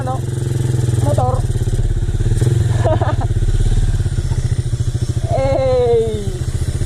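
A motorcycle engine idles and putters loudly close by with a steady low throb, with a few clattering knocks and a brief rising rev near the end, while people talk over it on a narrow path.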